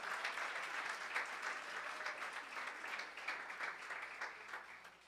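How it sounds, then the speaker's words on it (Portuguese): A church congregation applauds together in praise, a dense, even patter of many hands heard from some distance and fairly quiet, continuing without pause before tapering slightly. "Você pode aplaudir o Senhor mais uma vez?"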